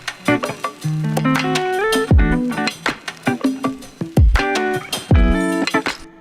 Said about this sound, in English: And then I added this drum clip to it,